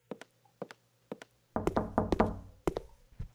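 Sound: knocking on a door in a horror video game

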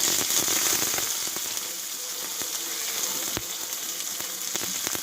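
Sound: chopped onion frying in oil

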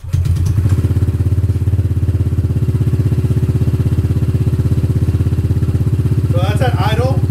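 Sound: Honda ADV 150 motorcycle idling with raw Yoshimura exhaust

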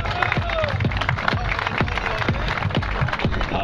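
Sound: audience applause

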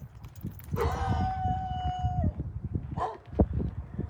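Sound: dog

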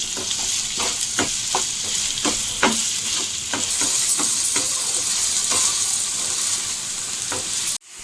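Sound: frying prawns

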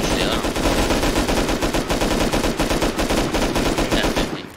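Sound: gunfire in Rust video game

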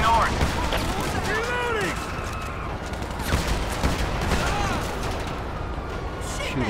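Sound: gunfire in video game GTA 5

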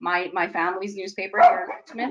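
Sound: dog barking

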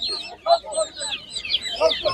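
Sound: chickens clucking at a poultry market

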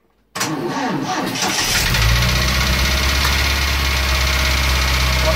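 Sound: 1982 Triumph TR7 engine running with a noise

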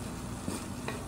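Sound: stirring instant noodles with vegetables in a pan

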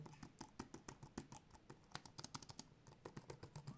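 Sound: laptop keyboard typing

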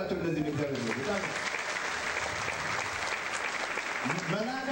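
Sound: church congregation applauding

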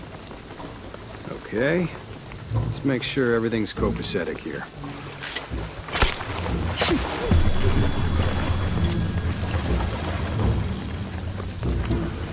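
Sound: rain and thunder in the video game Shadow of the Tomb Raider

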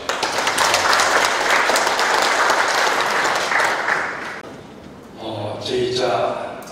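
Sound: audience applause welcoming the election committee chairman

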